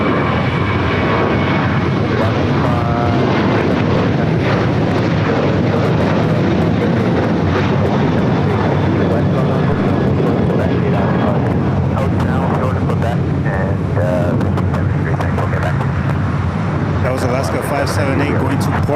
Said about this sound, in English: JetBlue A321 touching down here, obviously in the newer updated livery.